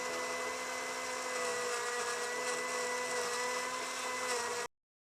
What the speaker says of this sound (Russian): И тщательно перемешиваем блендером до полной однородности.